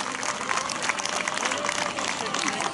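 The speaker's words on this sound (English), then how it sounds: "Well done there, round of applause" Crowd applause at a Highland Games caber toss, a steady patter of clapping from spectators outdoors, moderately loud, with someone speaking over it.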